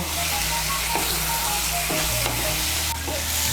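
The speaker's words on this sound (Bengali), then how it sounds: "মিশিয়ে নিয়ে মশলাটাকে ভালো করে কষিয়ে নেব।" Spice paste and peas fry and get stirred in a pan for a Bengali cauliflower curry, a steady loud sizzle with scraping strokes of the spoon throughout, no voices.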